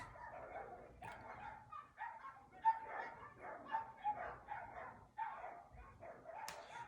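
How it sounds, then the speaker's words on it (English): Dogs outside bark repeatedly in an uneven stream of yips and woofs, muffled and somewhat distant, with no talking over them. "the dogs out there just really bother me"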